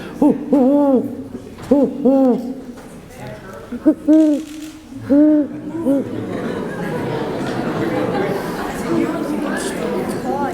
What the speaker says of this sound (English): that's when you hear a hooting owl outside,